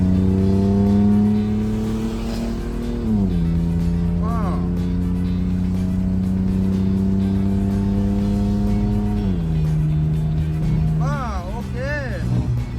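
A Toyota Mark II engine rumbles through its exhaust as it revs, with a deep, loud idle that climbs in pitch twice in steady steps before settling, the two rises sounding well apart.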